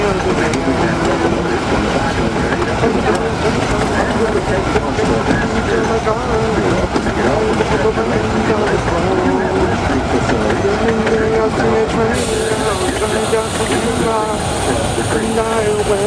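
A train runs along the rails of the Georgetown Loop Railroad with a loud, continuous rumble and a steady clatter of wheels, while a voice sings over it throughout.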